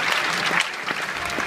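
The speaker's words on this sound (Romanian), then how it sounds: "Vă rog, aplaudați-l pe Gafton, un pic așa." Audience applause at a comic con, a steady dense wash of clapping from a crowd lasting the whole moment, fairly loud and unbroken with no talk over it.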